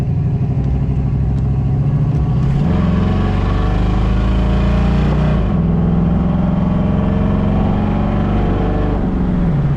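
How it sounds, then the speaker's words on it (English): A 1968 Ford Mustang convertible with an automatic transmission accelerates hard. The engine roars loud and close, rising steadily in pitch, with two distinct drops where the gearbox shifts up. "Good acceleration in this Mustang. Nice firm shifts from that automatic transmission."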